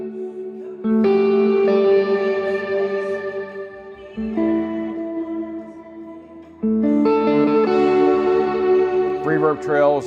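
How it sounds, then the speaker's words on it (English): Clean electric guitar chords played through a worship pedal board, sustained notes ringing into a long, wide reverb trail; two swells of strumming with a softer dip between. "Reverb trail is just a whole lot larger."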